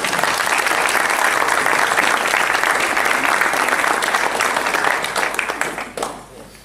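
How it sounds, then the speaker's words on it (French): Sustained applause from the audience at a regional billiards tournament final, dense and steady for several seconds before fading out near the end; a voice briefly rises beneath the clapping. "Donc je vous demande d'applaudir Yannick G"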